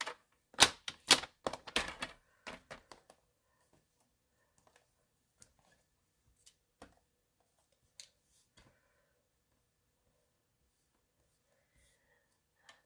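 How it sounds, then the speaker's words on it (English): Paper strips for a handmade greeting card are trimmed with a rapid cluster of crisp cutting snips at first, then scattered faint isolated clicks and taps in near silence. "I'm just going to cut these strips at 5 1/4 instead"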